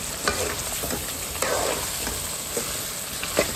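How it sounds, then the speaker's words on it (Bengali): Meat and liver fry in a pan with a steady, close sizzle, broken by occasional scraping stirs and soft knocks of the spoon against the pan. "মাংসটা একটু কুকি করার পরে এতে দিয়ে দেবো কলিজা।"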